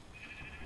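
Sheep bleating in a multiplayer video game, one steady, fairly faint bleat with a rough, held tone and no talk over it.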